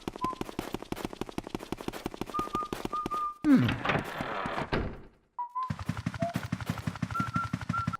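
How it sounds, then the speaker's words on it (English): Luigi whistles the main theme in Luigi's Mansion, a melodic tune over rapid, rhythmic percussive clatter, interrupted briefly by a noisy burst and short pause. "his humming becomes a more confident whistle of the main theme"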